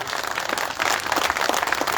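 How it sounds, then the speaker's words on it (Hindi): A rally crowd at an event in Zafarabad, Jaunpur bursts into loud, sustained applause, a dense wash of many hands clapping that swells slightly and carries on throughout. "तालियां होनी चाहिए।"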